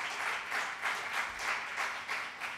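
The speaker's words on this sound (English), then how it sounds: "Just give them a round of applause." A church congregation gives a round of applause, soft and somewhat distant clapping with a gently pulsing rhythm, steady throughout the brief moment with no talking over it.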